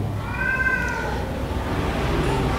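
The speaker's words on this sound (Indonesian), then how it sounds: "Kucing hoyong kawin tah." A cat meows in a drawn-out, rising and falling call, wanting to mate, alone and fairly close over a steady low background hum.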